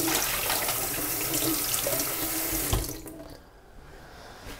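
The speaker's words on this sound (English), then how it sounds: "run the cold water through, just making sure the excess dye is out" Cold tap water runs in a steady, loud stream over dyed CDC feathers as the excess dye is rinsed out, then the flow cuts off abruptly near the end, leaving quiet.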